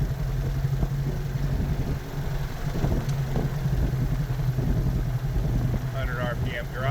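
An aircraft piston engine runs at steady run-up RPM during a magneto check, giving a continuous droning hum with a clattering edge while people talk over it.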